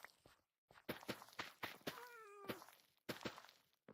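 Ghast from the video game Minecraft letting out a short cat-like wavering cry in the middle, heard among steady repeated footsteps and thuds, fairly quiet overall.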